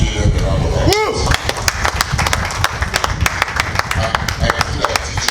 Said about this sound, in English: This will be given a round of applause.